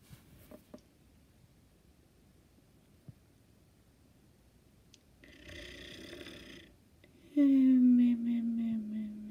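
A cartoon character snores loudly at a sleepover, a rough rumbling breath rising after quiet stretches, then a long drawn-out whistling snore dominating the end.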